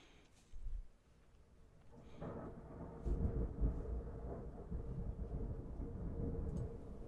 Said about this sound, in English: Could probably even hear some of that thunder in the background here.